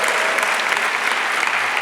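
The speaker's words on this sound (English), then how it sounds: "You guys can feel free to cheer" Graduation ceremony audience in Dunkirk, NY breaking into steady, dense cheering and applause, loud and continuous throughout with no speech over it.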